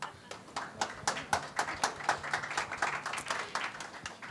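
Audience applause at a press conference for the 112th Millrose Games track and field meet, scattered, fairly sparse clapping from a small crowd, moderately close, with speech faintly underneath.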